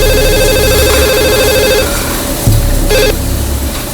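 A telephone rings after a number is dialed, a loud electronic ringback with clear repeating bursts separated by short gaps, heard alone in an indoor setting.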